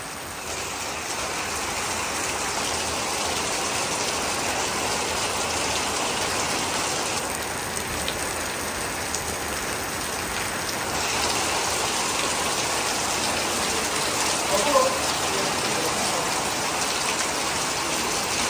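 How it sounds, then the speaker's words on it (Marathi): Heavy rain pours steadily during a palanquin procession, a dense continuous hiss with a brief brighter patch partway through and no talk. "एकदम जोरदार पाऊस चालू आहे"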